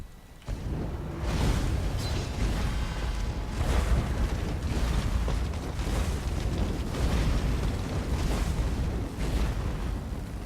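Combat sounds from a video game during light attack weaving: a dense, continuous barrage of booming, crackling impacts and bursts that rises and falls in quick surges without a break.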